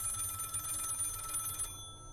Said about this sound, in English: called the phone inside the restaurant multiple times